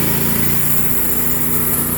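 A sawmill motor, reportedly faulty, runs steadily and loudly with a constant droning engine hum and high whine throughout, no pauses or voices.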